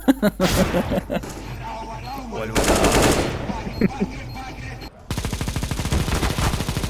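Loud rattling bursts of automatic gunfire in a shooting video game, several rapid volleys broken by short gaps, close and dominant, with voices briefly audible between bursts.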